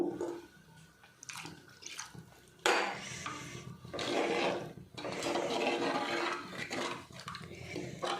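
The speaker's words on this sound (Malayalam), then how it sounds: "ഇതിലിപ്പോൾ ഞാൻ 2 ഗ്ലാസ് വെള്ളം ഒഴിക്കുന്നുണ്ട് കേട്ടോ" Two glasses of water are poured into a pot for fish curry without coconut milk, giving splashing, gushing bursts in a kitchen with short pauses between pours.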